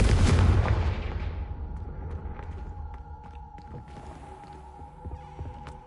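A Confringo blasting curse in the Hogwarts Legacy game on PS5 erupts as a loud booming burst that decays into a low rumble and quiet ambient hum.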